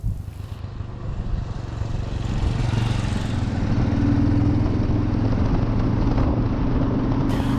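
A small BMW single-cylinder motorcycle on a winding road gives a buzzing engine drone that builds and holds louder, mixed with steady wind rush and no speech.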